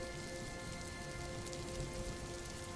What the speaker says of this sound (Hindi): सिर्फ बारिश और बर्तन की खनक सुनाई दे रही थी।